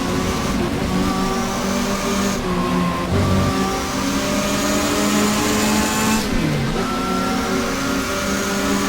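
Race car engines in GTR2, a WTCC 1987 touring car round at Fuji Speedway, several cars screaming at high revs with sharp gear shifts and pitch drops as they brake and accelerate, loud and close.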